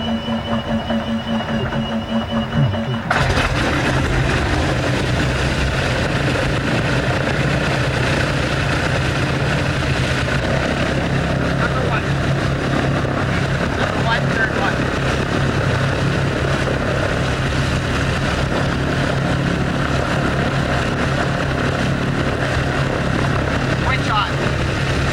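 Number 2 propeller engine of a 1999 B-17 bomber catches with a sudden start and settles into a loud, steady piston roar with propeller throb, continuous and close.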